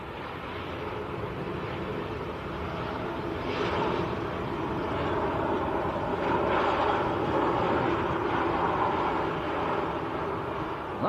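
An EasyJet airliner passes at Manchester Airport as a broad, steady jet roar. It swells gently and stays moderately loud throughout, mixed with wind buffeting and no talk.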